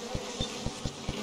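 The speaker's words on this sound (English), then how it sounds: "Why would I touch the bees?" Bees buzz in the video game Bioshock, a steady low drone pulsing in about five rhythmic swells over a thin background hiss, with no voices.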